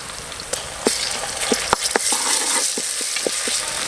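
Ginger garlic paste frying in hot oil for a village-style spicy mutton curry, a steady sizzle broken by sharp clicks and taps of a spoon stirring against the pan.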